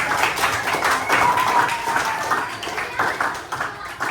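Students clap in a classroom after a lesson on algorithms, an uneven patter of hands lasting a few seconds and fairly close.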